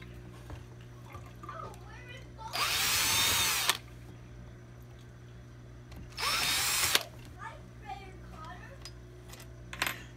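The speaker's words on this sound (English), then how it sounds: "I'm just using a regular tool, like a regular screw bit that came with the bike. Just using in a cordless drill." A cordless drill fitted with a plain screw bit removes screws from a Kawasaki KE100-type motorcycle engine. Two loud, close whirring bursts of about a second each are separated by quieter stretches with faint talk.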